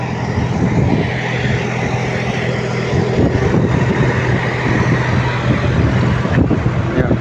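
A sandstorm's strong wind blasts across an open lifting site in a dense, continuous roar. It stays loud and close throughout, with no clear speech.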